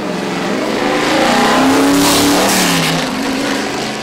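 A race car accelerates hard at Michigan International Speedway, its engine revving loud and close with a rising pitch that swells through the middle and then holds, with no talk over it.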